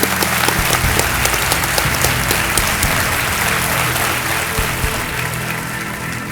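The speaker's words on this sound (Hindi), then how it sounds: "तालियों के साथ इनका स्वागत।" A studio audience on the Kaun Banega Crorepati quiz show claps loudly to welcome a guest, thick sustained applause with a little low-end rumble, easing slightly toward the end.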